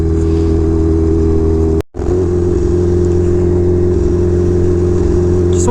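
A brand-new Kawasaki H2R motorcycle on slick tyres in the rain, its supercharger spooling up near 4,000 RPM, gives a loud, steady engine drone with a sustained whine, broken once by a brief dropout.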